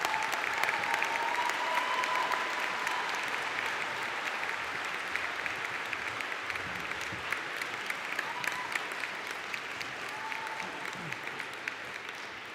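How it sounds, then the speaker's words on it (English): A large audience at a university conferring ceremony for the Faculty of Science and Health applauds the graduate group, with steady, sustained clapping that fills the hall evenly from start to finish. "A big warm round of applause to the graduate group."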